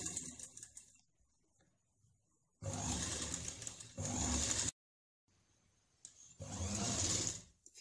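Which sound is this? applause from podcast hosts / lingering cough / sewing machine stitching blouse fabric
sewing machine stitching blouse fabric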